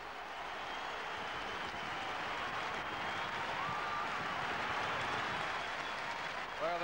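A big, passionate football crowd at the Victoria Ground, Stoke, before the Stoke City v Port Vale Potteries derby, gives a steady, distant roar of applause and crowd noise that holds evenly throughout.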